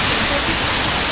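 Steady rain falling outdoors beside a highway, a dense, loud, continuous hiss filling the short moment without breaks.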